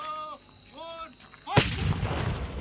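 A bomb goes off with a sudden loud blast that leaves a rumbling, noisy tail, following a few tonal beeps and quiet background sound.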